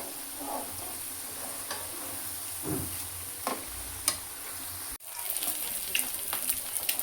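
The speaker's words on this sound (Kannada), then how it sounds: "ಇದನ್ನ ಲೋ ಫ್ಲೇಮ್ನ ಏನು ಫ್ರೈ ಮಾಡ್ತಾ ಇಲ್ಲ ನಾನು ಹೈ ಫ್ಲೇಮ್ನ ಇಟ್ಟಿದ್ದೀನಿ ಫುಲ್ಲು ಕ್ರಿಸ್ಪಿ ಆಗೋ ಥರ ಫ್ರೈ ಆಗಬೇಕಿದು" Hyacinth beans fry on a high flame until crisp, giving a steady close sizzle with occasional spoon knocks. The hiss grows brighter and louder toward the end.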